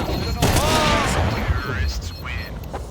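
Sharp gunfire from Counter-Strike 2 cracks in quick succession over a dense game background, with a loud burst early on and softer shots after it.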